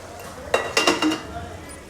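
A metal lid is set onto a pot of chicken gravy, a few short close clinks in quick succession over a soft background hiss.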